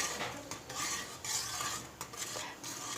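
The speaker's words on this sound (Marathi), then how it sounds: "मीठ घातल्यानंतर याला व्यवस्थित असं हालून घेऊया" Steady scraping and swishing as a spoon stirs salted, boiling water in a pot on the stove for wheat kurdai, continuous and close with no voices.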